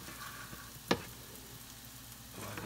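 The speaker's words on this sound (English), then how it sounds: "So you just go ahead and throw you some stir-fried veggies in a pan." Stir-fried vegetables in a pan: a quiet, low sizzle with a single sharp clatter near the start, then a soft hiss that carries on.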